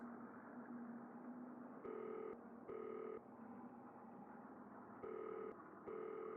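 Phone tones on an incoming call, short regular electronic beeps in pairs sounding over a faint, steady low hum, with no talking.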